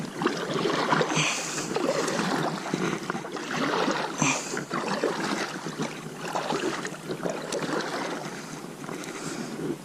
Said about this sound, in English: let's see how she paddles